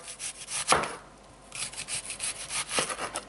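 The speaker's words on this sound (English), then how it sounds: "I'm going to cut my onion." A knife slices through an onion on a cutting board in steady, rhythmic strokes with scraping rasps, close and fairly loud, broken by one brief pause.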